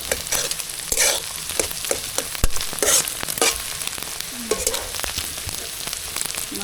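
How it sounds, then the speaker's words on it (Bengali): Egg frying in a pan, a loud, close, crackling sizzle broken by frequent scraping stirs and clinks of a spatula, with no talking. "ডিম ভাজা হয়ে গেছে"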